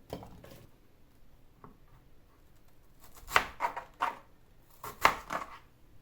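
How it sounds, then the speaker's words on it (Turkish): A knife chopping potatoes on a board, a few quiet scattered cuts at first, then two clusters of sharp, close thuds in quick succession, with a hushed background between them. "Patateslerimi doğruyorum öncelikle"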